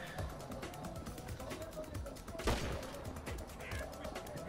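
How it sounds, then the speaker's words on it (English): Rapid gunfire in a GTA V Online deathmatch, a fast run of sharp repeated shots with one louder crack midway, moderately distant beneath the game audio. "I just shot you in the head!"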